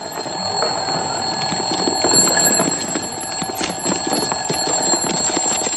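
An alarm clock rings continuously at steady loudness with a high, bright tone, a comedic wedding scene as the setting, and no speech over it.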